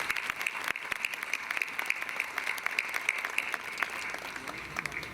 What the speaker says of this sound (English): Go ahead, clap for them.